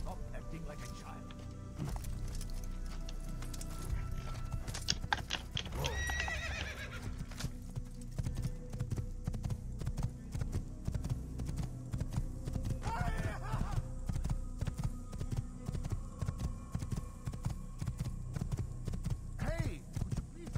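In the video game Assassin's Creed, steady clip-clop of galloping hooves with two loud horse whinnies rising over it, set against a low continuous hum.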